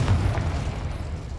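Confringo fire spell blast in the Hogwarts Legacy video game: a deep, booming burst at the start that rumbles on as a low roar, loud and close, with no talking.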